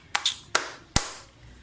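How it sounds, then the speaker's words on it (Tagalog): Three sharp, close hand claps land about four-tenths of a second apart as a salute during an online festival, each one crisp and followed by a short decay. "Tatlong bagsak na palakpak, Kadeo."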